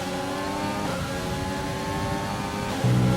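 A Formula 1 car engine in the F1 video game holds a high, steady whine at full revs, loud and close, with a quick jump in pitch near the end.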